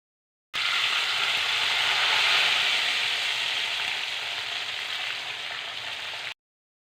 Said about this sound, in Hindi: और अब बारी आती है साग को तड़का लगाने की।